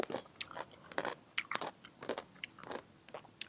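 Crunchy salt-pickled green mango slices being bitten and chewed up close, with a rapid series of sharp wet crunches and chewing sounds, fairly loud and with no talking.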